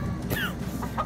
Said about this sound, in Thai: โอ้ยมีไก่แจ้ด้วย